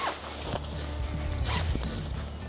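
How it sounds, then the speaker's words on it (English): The zipper on a large e-bike cover is pulled along in a few scratchy, creaking runs, close and moderately loud, with no talking. "And this is the zipper."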